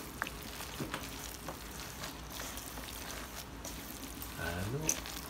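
A food mixture being stirred, a quiet, steady scraping and swishing that continues throughout, with soft sizzling texture and a voice talking over it.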